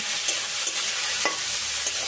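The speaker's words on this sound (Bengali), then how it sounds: "এখন এই সমস্ত সবজি একটু ভাজা ভাজা করে নেব" Chopped carrot, capsicum, spring onion and green chilli fry in hot oil in a pan, a steady close sizzle broken by a few scraping stirs.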